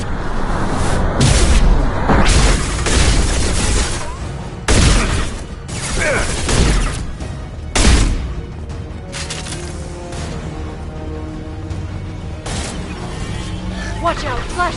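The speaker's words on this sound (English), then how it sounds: "Watch out, flashbangs!" Flashbang explosions in a video game, several sharp loud booms at uneven gaps, each cutting through rumbling game noise, with voices talking throughout.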